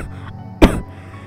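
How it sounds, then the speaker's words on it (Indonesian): A woman chokes and gives one sharp, loud cough burst, with softer throaty breathing before and after. "Perempuan itu tersedak dan terbatuk-batuk."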